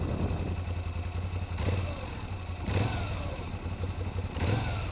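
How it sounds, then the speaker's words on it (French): A Moto Guzzi V7 III Stone motorcycle engine runs steadily with a few short throttle blips rising over the idle, close by and fairly loud, with no one talking. "vous avez juste accéléré un peu la moto"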